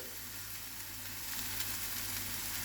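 Brinjal sizzling in a pan with a hot tempering, heard as a steady, close frying hiss with soft crackles throughout and no talking.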